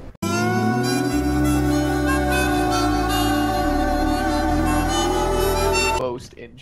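In the video game Lethal Company, an in-game phone rings: a sustained, bright, harmonic electronic tone holds steadily for about six seconds, then cuts off abruptly.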